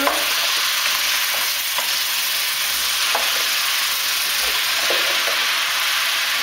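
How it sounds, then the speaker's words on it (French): Frozen food thawing in its own juices in a one-pot couscous, stirred in a hot pot with a loud continuous sizzle and occasional scraping of the spoon, close and alone. "Voilà, je mélange un petit peu."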